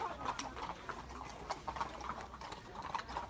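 Hooves of ex-racehorses clip-clop in a steady, moderately close rhythm on a hard surface, with no talking over them.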